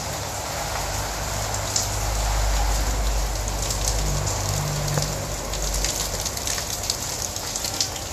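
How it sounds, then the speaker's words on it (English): Heavy rain falls outdoors in Merida, Mexico, a loud continuous wash of drops hitting surfaces, with faint low rumbles underneath and no speech. "Oh yeah. It's raining. It's raining. It's raining."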